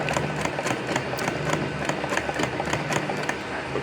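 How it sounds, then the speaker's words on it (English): A sewing machine stitches around a Perkins men's sandal in a fast, even mechanical chatter of needle strokes, steady and close throughout with no talking. "Let's sew. Carefully sew that."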